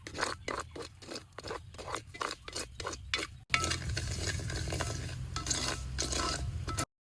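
Rice roasting in ghee in a pan for Sri Lankan rice payasam, stirred with a spoon in a quick run of rhythmic scraping strokes, then a steady close frying rustle and sizzle with no speech.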